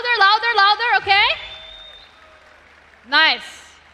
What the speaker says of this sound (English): I'm going to count to 3, and then everybody starts clapping